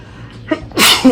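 A single close, loud human sneeze, a short sharp inhaled buildup followed by an abrupt explosive burst, with no other sound around it.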